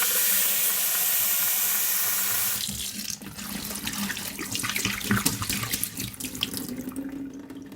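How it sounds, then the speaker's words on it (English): A second rinse of broccoli sprouts under the kitchen faucet: water streams into the jar with a continuous hiss, then breaks into choppier splashing and gurgling as it fills and sloshes, close by with no voices. "I always double rinse them."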